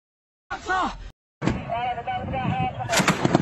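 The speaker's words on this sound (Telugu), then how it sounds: "ఒకసారి అక్కడ బ్లాస్ట్ ఎలా జరిగింది, ఒకసారి దానికి సంబంధించిన విజువల్స్ ఒకసారి చూద్దాం" A blast near the Pakistan border in news footage, with loud booming bursts and rumbling under shouting voices, broken by a brief silent gap and ending in sharp cracks.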